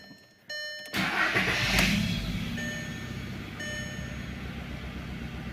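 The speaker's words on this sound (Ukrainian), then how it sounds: "Так, машину ставимо на ручник. Вмикаємо запалювання." A Skoda Octavia Tour 1.6, handbrake set, has its ignition switched on: a click and short electronic chimes, then a mechanical whir swells and settles into a steady hum, with a few further beeps.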